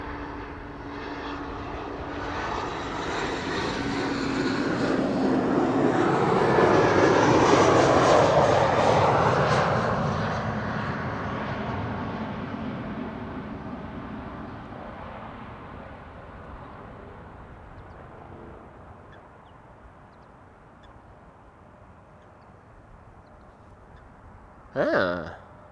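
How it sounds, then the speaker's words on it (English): A KLM Embraer 190 on arrival at Amsterdam Schiphol swells into a loud, broad engine roar that peaks near mid-pass, then fades slowly into the distance, ending with a brief sharp noise close by. "KLM flight 1056, arriving from Norwich, Embraer 190"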